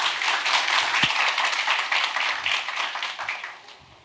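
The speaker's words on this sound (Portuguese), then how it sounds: "uma salva de palmas para o Douglas" Applause from an audience at a lecture on scholarships, steady, dense clapping from many hands that fades away near the end.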